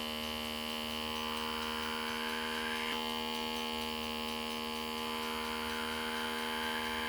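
A Voyor BR510 pore vacuum blackhead remover runs continuously with a steady, close electric hum and whine that holds at an even level throughout.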